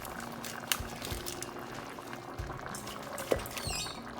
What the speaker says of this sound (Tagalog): hayaan natin yung init ang magluto doon sa ating spinach